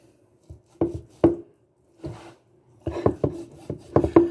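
A knife trims fat from pork tenderloin on a cutting board, giving a series of dull, close taps and short scraping cuts. The strokes come in irregular clusters between brief pauses.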